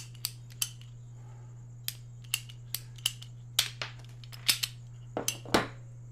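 Sharp snips of a cutting tool trimming half an inch off a part while building a baby gecko enclosure, a dozen or so crisp clicks spread irregularly over a few seconds, close and fairly quiet over a steady low hum.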